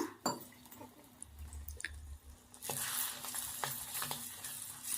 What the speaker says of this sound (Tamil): கொஞ்சமாக தண்ணி ஊற்றி நம்ம இதை வந்து வதக்கி விட்டுக்கலாம்